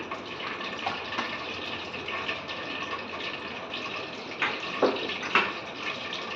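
Mustard seeds hitting hot oil for an amla pickle tempering, producing a steady close sizzling hiss with a few sharper pops near the end.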